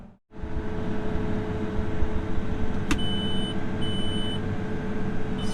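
An electronic beeping from a planter monitor rises faintly over a steady, loud tractor engine drone, with a couple of brief tones sounding near the middle of the passage.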